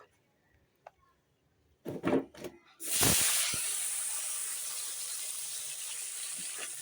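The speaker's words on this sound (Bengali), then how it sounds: "এখন আমি গোটা গোটা সিমগুলো ভেজে নেব" Whole broad beans hit hot oil and burst into a loud hiss that settles into a steady sizzle, preceded by a few clattering handling sounds, close and alone.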